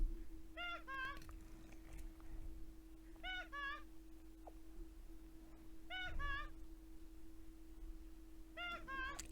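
Toad voice sample from a video game, short high chirpy vocal bursts repeating in four spaced groups over a steady low hum.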